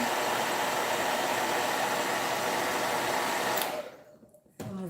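A hair dryer blows steadily and loudly up close over stencil paint on a decorative plaque, then cuts off near the end with a brief restart.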